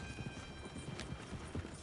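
Horse hooves clip-clop at a steady trot in Red Dead Redemption 2, an even run of close beats over a soft background bed with no talking.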